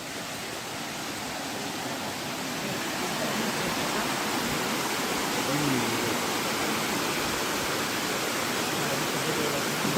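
Elephant Falls near Shillong pours as a dense, steady roar of falling water that swells slightly louder partway through, with faint voices beneath it.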